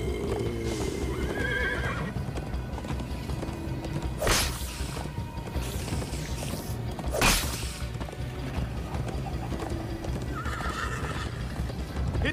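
A horse gallops in the Minecraft: Story Mode video game, with rapid steady hoofbeats throughout and two loud whinnies partway through, alongside game sound effects.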